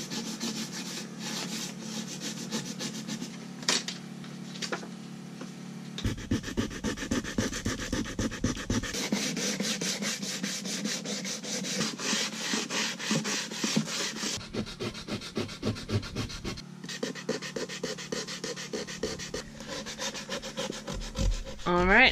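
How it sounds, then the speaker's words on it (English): Block sander running at 150 grit over a varnished wooden boat floor, a steady raspy rubbing that pauses and restarts in long rhythmic passes, close and fairly loud throughout with no talking. "I came over it with a block sander 150 grit, and then anywhere it was chipped and cracks in the varnish, I came back by hand."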